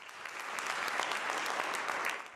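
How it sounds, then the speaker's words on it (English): A crowd at an award ceremony for Merkel breaks into sustained applause, a dense, even patter of many hands clapping with no voices over it. "The crowd applauded Merkel's contributions"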